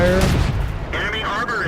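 A tank cannon fires in the World of Tanks game, a loud booming blast with a rumbling tail that fills the short moment, with a voice talking over it.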